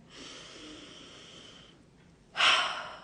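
A long, soft inhale lasts well over a second, then a short pause, then a louder, breathy exhale, close and with no other sound around it.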